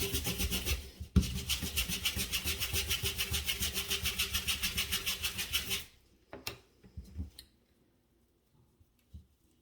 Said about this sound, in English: I don't even know if I'm scrubbing in the right spot or not.